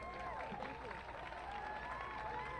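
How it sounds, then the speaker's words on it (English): An outdoor crowd at a Juneteenth celebration in New York applauds a council member. The clapping is faint and steady, mixed with a low background hum and some murmuring voices. "Please help us give her a big round of applause as she closes us out."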